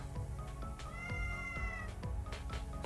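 A cat meows in the game Touhou LostWord, a short clear mew over a steady background music bed at low volume.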